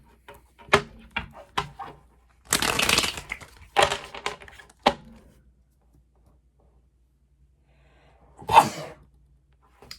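Tarot cards are shuffled by hand in irregular bursts of riffling and slapping, with quiet gaps between them, close and fairly crisp.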